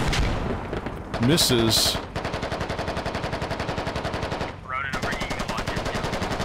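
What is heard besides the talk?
support gunfire in Squad video game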